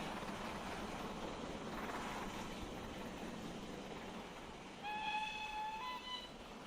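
A GWR Grange class steam locomotive in a train simulator game rumbles past in a steady roar, then a high whistle sounds with a falling pitch as it speeds away.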